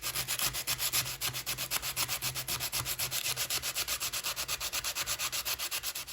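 Sandpaper rubbing rust off a small metal weight from an N scale model boxcar, a steady run of quick, evenly spaced back-and-forth scrapes heard close and alone, about four strokes per second throughout.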